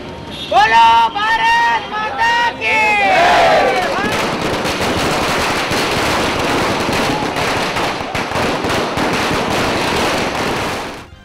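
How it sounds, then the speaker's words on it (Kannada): Firecrackers burst at a victory celebration in Haveri, a dense run of sharp cracks and pops over a cheering, shouting crowd, loud and continuous, with whistling bursts early on. "ಹಾವೇರಿಯಲ್ಲಿ ಪಟಾಕಿಗಳು ಸಿಡಿದವು."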